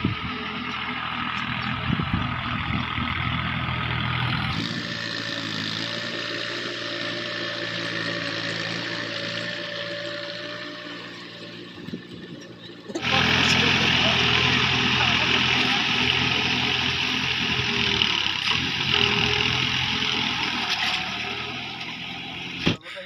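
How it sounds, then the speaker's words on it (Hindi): A Sonalika GardenTrac DI 20 mini tractor, stuck in a muddy field, drones with a steady engine roar that shifts pitch and loudness as it strains, surging harder partway through, with background noise around it. "यहाँ पे देखिए हमारा ट्रैक्टर पूरा फंस चुका है"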